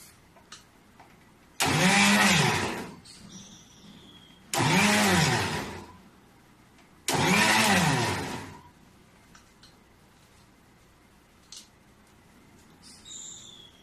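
A kitchen mixer grinder blending milk for ghewar runs loud in three separate bursts of about two seconds each, with short quiet gaps and faint background birdsong between them.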